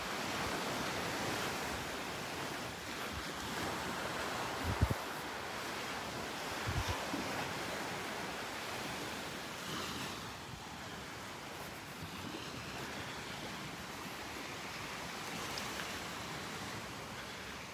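Surf washes steadily onto the wide beach at Delnor-Wiggins park, a broad continuous roar of breaking waves mixed with some wind buffeting, with two brief knocks partway through and no talking.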